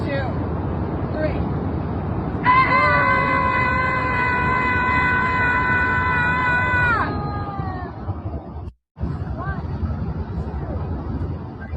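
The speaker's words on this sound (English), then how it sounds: "A Portland group, they get together every Wednesday and scream at a park in protest of Donald Trump." Members of a protest group in Portland scream together at a park in protest of Donald Trump, a loud sustained collective yell lasting several seconds over crowd babble, then breaking off into ordinary chatter.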